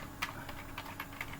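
Quick, irregular keystrokes clatter on a computer keyboard while someone enters Go code, close-up and crisp over a low steady hum.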